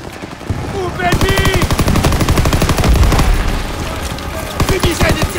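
Rapid machine gun suppressing fire in the WWII shooter Call of Duty WWII, loud sustained bursts of close gunfire with booms, continuing for several seconds amid battlefield chaos.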